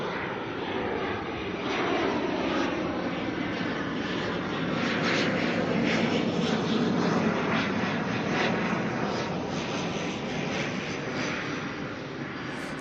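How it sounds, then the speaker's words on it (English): An ATR turboprop arriving from Nelson at Auckland Airport passes with a steady, fairly close engine drone and whine that swells slightly and holds throughout, with no voices. "ATR here coming in from Nelson"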